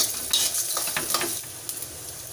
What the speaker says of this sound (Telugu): అలాగే జీలకర్ర వేసుకొని ఈ మూడు దోరగా వేయించుకోవాలి